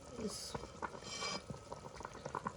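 Water splashes from a pan into beef nihari cooking with meat, coming in two short hissing bursts over a busy kitchen background.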